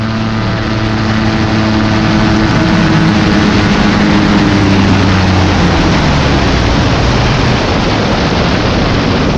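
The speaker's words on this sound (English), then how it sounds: "we get the first signs of engine failure, and then engine seizure, and then engine stoppage right after that" Small aircraft engine failing and seizing right after takeoff: a loud, continuous broadband roar with steady low droning tones that waver and shift partway through, filling the whole stretch without any voices.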